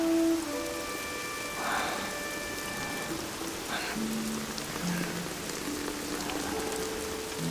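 Heavy rain pours steadily throughout, a dense pattering hiss with soft sustained musical tones drifting underneath.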